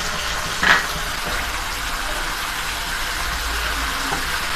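Onion paste fries with spices in a pan, giving a steady, moderate hiss of sizzling oil with one brief sharper clatter near the start and no talking.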